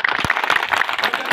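A crowd at a BJP political welcome event claps in dense, steady applause at close range, with no pauses.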